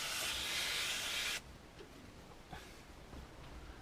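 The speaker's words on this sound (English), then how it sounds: "as a precaution I've got some contact spray, so I'll spray the PCI Express connector" A loud, close spray of contact cleaner onto a PCI Express connector hisses for over a second, then cuts off abruptly, leaving quiet faint handling noises.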